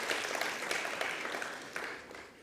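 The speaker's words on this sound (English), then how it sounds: "Ladies and gentlemen, let's give another hand of applause to Mr. Humphreys." An audience at a conference opening ceremony claps in steady, soft applause that stays fairly faint and distant, without voices, and eases off slightly toward the end.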